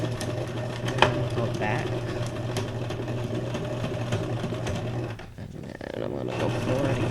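A sewing machine runs a straight stitch through junk journal pages, a steady close mechanical whir that pauses briefly near the end before starting again, with a short spoken remark over it.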